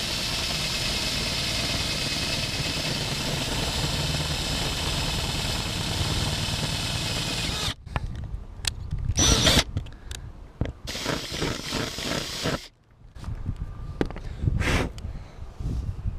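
Power drill boring through van sheet metal during a solar panel install, a steady whining hum for several seconds that breaks into short, uneven bursts as the bit bites through the panel.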